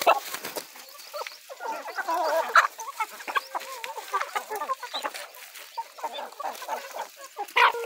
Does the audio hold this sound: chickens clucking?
yes